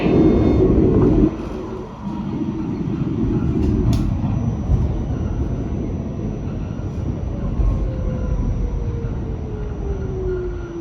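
An R46 New York subway Q train rides between stations toward Lexington Avenue–63rd Street, a steady loud rumble and rattle of the car with a long rising wheel whine near the end and no talk.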